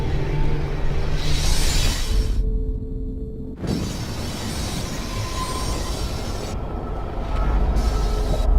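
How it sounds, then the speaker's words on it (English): An approaching train in the video game Life Is Strange rumbles loud and steady, with rail clatter and a brief metallic screech, broken by a sharp cutoff and an impact before the roar resumes. "The train's coming!"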